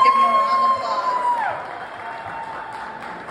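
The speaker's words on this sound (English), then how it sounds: "Let's give them a round of applause" Audience at an RV camping and outdoor show awards ceremony clapping and cheering loudly, with a few whoops and crowd voices mixed in, the applause easing slightly as it goes on.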